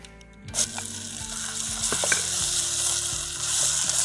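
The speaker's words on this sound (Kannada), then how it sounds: "ಸ್ವಲ್ಪ ಎಣ್ಣೆಲಿ ಫ್ರೈ ಮಾಡ್ಕೋಬೇಕು." Ground masala paste fries in oil after a tempering of curry leaves, dried chillies and asafoetida, starting with a loud burst of sizzle and settling into a steady close crackle with occasional stirring scrapes.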